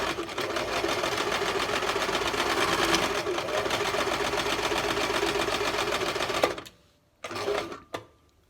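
A sewing machine stitches the arm of an upcycled sock monkey, running steadily and close for about six and a half seconds, then stopping; a couple of short bursts follow as the seam is reversed back toward the edge.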